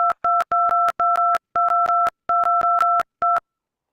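Telephone keypad buttons pressed in a quick irregular series, each press a short paired dual-tone beep, close and clear with brief silent gaps between groups.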